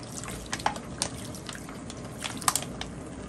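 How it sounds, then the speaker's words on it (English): Water from a bottle pours and splashes into a pot of doves simmering in chicken broth, irregular drips and liquid plops close by, some louder splashes standing out. "I'm adding another one bottle of water to this."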